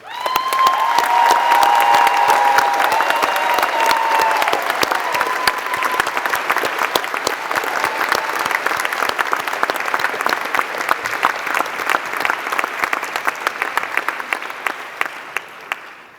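At a university graduation ceremony, the audience gives families and friends a long, loud round of applause, with dense clapping and some cheering early on that slowly thins out into scattered claps.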